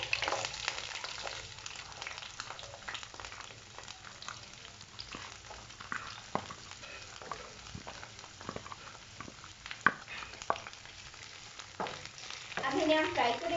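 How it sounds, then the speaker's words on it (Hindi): Onions fry in hot oil in a pan with a continuous close sizzle, broken by scattered sharp crackles and stirring scrapes that grow busier toward the end. "देखिए पैन में ऑयल गर्म हो रहा है। अब हम इसमें प्याज डालेंगे,"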